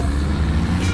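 A heavy tractor engine rumbles loudly and close with a deep, steady drone, out on a motocross track at Tallhults Motorstadion in Hagfors during summer race preparations.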